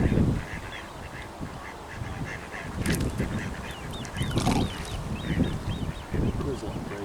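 Ducks at a lakeside fishing spot quack and honk repeatedly while being fed, in busy overlapping calls close by, with people talking underneath throughout.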